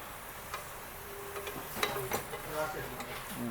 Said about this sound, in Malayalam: ഇതൊന്ന് ഇളക്കി ഉപ്പൊക്കെ എല്ലായിടത്തും ആക്കിയിട്ട് ഒന്ന് മൂടി വെക്കണം